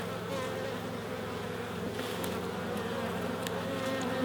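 A dense, steady drone of many honeybees buzzing in a full hive, heard up close and continuous, with individual bees flitting past in brief higher whines over the constant hum.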